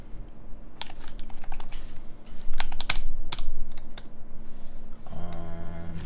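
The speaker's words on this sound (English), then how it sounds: "right now I'm typing on my HKB" Keys clatter in quick, irregular bursts on an HHKB Pro 1 keyboard with lubed Tribosys 32.4 switches, steady close-up typing with a few louder strokes, and a low hum joins near the end.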